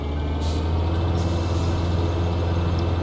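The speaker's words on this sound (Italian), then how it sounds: "premendo la barra spaziatrice si toglie il freno" Handbrake on a truck in the video game Farming Simulator 2013 lets go with a short hissing burst of air over a steady low engine idle, followed by a faint second hiss.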